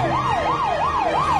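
Toy fire truck siren wailing in a smooth, regular rise-and-fall cycle, about four sweeps in quick succession, loud and close with a faint electronic hum beneath, no talking.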